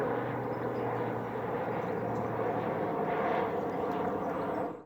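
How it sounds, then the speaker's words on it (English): An airplane passes overhead at a wooded primitive campsite as a steady, distant broadband roar. It holds nearly even throughout, rises slightly toward the end, then cuts off, with no talking. "There's an airplane right there."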